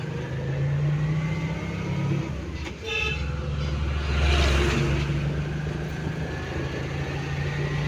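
Riding in a vehicle on a road, a loud steady engine and road hum fills the cabin, with a short horn toot breaking through partway.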